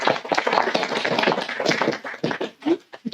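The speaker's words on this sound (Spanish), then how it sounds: "Un aplauso, por favor." Audience applause at a climate-change and water-resources panel session, a steady patter of many hands clapping for several seconds, then tapering into a few scattered claps.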